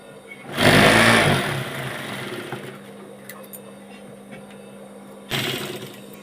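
Electric sewing machine stitching a nightie, a loud close burst of rapid whirring stitches, a quiet pause, then a second shorter run.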